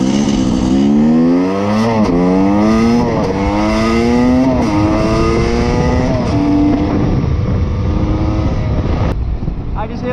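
A Yamaha YZ250 two-stroke dirt bike screams through the gears at speed, engine pitch climbing repeatedly with quick shifts, loud and close with wind rush, the rider's voice briefly mixed in.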